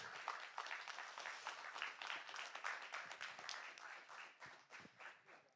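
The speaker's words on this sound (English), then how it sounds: "let's give a big applause for this." An audience at a technical summit talk applauds with steady, dense clapping for several seconds, heard faintly and at a distance.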